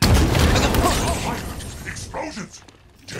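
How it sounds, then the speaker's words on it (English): Explosions in the Halo Infinite multiplayer shooter, a loud booming burst that rumbles and decays over a few seconds, with scattered smaller pops and game noises trailing off. "Explosions!"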